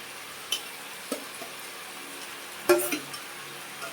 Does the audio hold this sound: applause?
no